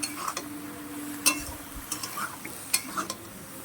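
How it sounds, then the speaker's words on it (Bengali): A spoon stirs a bean and shrimp curry in a pan, making a low simmering sizzle under sparse clinks and scrapes of the spoon against the metal. "এবার এটাকে ভালো করে নাড়তে হবে"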